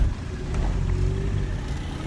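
A car's engine hums and rumbles steadily from inside the cabin on a school run, a low continuous road drone with a faint rising tone and no talk.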